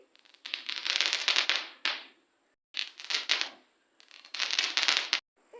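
Firecrackers bursting for Diwali on an evening at a farm, heard as three long volleys of rapid crackling pops separated by short silences, loud and close, with no talking.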